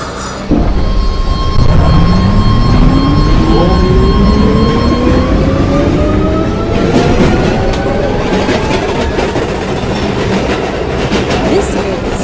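Riding aboard an F subway train between stations, the car's loud, steady rumble and clatter fills the space while rising motor whines climb in pitch as the train accelerates.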